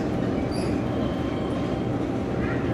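Inside a passenger car on the Missionary Ridge Local behind TAG locomotive #80 near Chattanooga, Tennessee, a steady low rolling rumble of wheels and car body carries on without a break.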